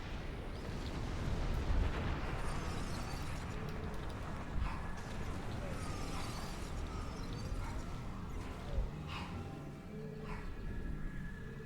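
Spaceship cannons fire and shots explode in a sci-fi space combat game, a rumbling, dense barrage with repeated dull booms and thuds over a steady low roar, no voices.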